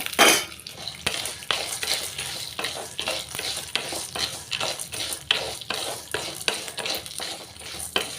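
Urad dal, chana dal and peanuts roasting in a pan, with steady scraping stirs of a spoon against the metal every half second or so over a soft dry sizzle, close and moderately loud.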